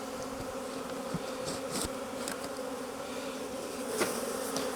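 Honey bees buzz densely around a hive, a continuous layered hum close by with individual insects flicking past at intervals.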